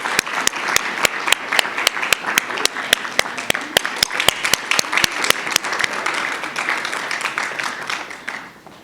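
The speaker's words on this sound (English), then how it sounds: "I think we should give another round of applause for our newest inductees." Audience applause for newly inducted members at a spring induction ceremony, many hands clapping in a crisp, sustained burst that thins out toward the end, with a few voices underneath.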